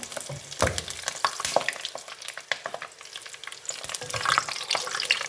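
Maida papad fries in hot ghee with a bright crackling sizzle full of quick pops and spatters, close by and fairly quiet, with no voices.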